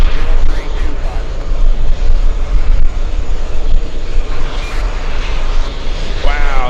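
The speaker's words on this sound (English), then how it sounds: "Right on time to see the Lufthansa A380 flying in from München." Lufthansa Airbus A380 on final approach to runway 22 left at JFK airport, a loud, continuous jet engine roar with wind buffeting, with a voice talking over it.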